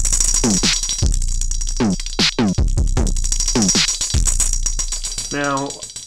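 Snappy kick and snare programmed on an Elektron Octatrack, sharp punchy hits in a loose groove with chopped, voice-like tonal fragments threaded between them.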